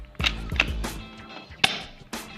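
A LeHui nylon M1911XD manual gel blaster fires test shots at targets: a handful of sharp, close snaps and cracks spaced irregularly over a couple of seconds, each a bright percussive hit with a short tail.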